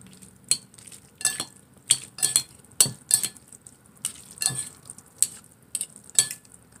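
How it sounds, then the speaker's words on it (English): Spicy noodles being stirred in a bowl, with a string of sharp utensil clinks and scrapes against the dish, irregular and close, with quiet gaps between strokes. "I'm gonna stir it up."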